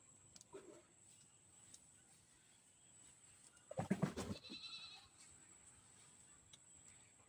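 A goat bleats once at mid-distance, a short burst standing out from a quiet farmyard with faint background sounds.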